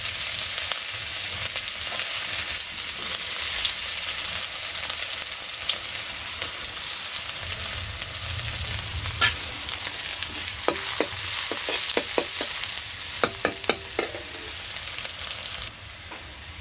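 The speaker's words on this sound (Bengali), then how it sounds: "তেলের মধ্যে জিরা রাঁধুনি দিয়ে দিলাম। এখানে পেঁয়াজ দিয়ে দিলাম।" Onions fry in oil along with cumin seeds and radhuni, giving a continuous close sizzle, punctuated midway by clusters of sharp spatula scrapes and taps against the pan before the hiss quiets slightly at the end.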